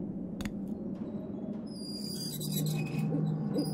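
An owl hoots softly in the Syberia 2 video game, coming through a steady ambient bed of low hum and faint high chirps.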